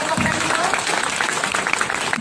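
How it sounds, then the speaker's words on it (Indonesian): Lively audience applause for a doctor after a stem cell presentation, loud dense clapping that fills the whole short stretch, with some voices mixed in. "Kita kasih tepuk tangan yang meriah untuk Dr. Trevino."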